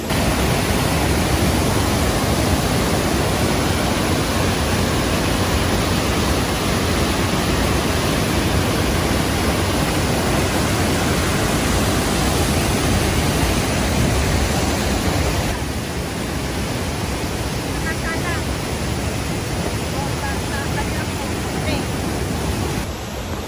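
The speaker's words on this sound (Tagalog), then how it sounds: "Andito na tayo sa waterfalls bago mag third lake." Waterfall between the second and third lakes at Joffre Lakes, a loud, unbroken roar of rushing water close by that eases slightly near the end, with someone talking over it.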